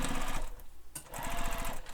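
A sewing machine bastes across the top edge of a crossbody bag, its needle running in a steady rapid rhythm, briefly pausing near the middle before resuming at a close, even pace.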